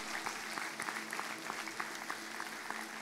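Congregation applauding during a Sunday church service in Santa Rosa, a steady, fairly quiet patter of many hands clapping at a distance with a faint murmur behind it.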